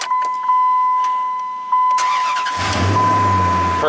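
A 2004 Dodge Ram pickup, wired temporarily with a test light during a no-crank repair, cranks briefly and fires up, then settles into a loud steady run close by after a few clicks and a faint tone.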